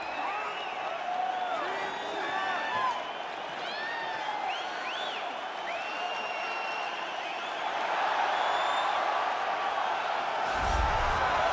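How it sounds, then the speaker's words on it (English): A large video game arena crowd in a UFC 4 fight roars and cheers steadily, swelling louder toward the end, with whistles and shouts rising above the din. "you hear the pop from the crowd, DC, as Nate Diaz gets set to make this walk"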